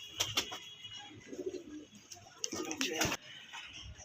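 Two pet pigeons at a Dankuni loft cooing in short, low bursts close by, mixed with sharper bird calls and a person talking.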